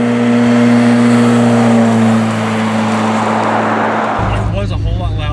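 A Yugo's loud, rough engine drones steadily with a raspy, blatting exhaust tone from holes drilled in the exhaust, then its pitch drops as it settles toward idle.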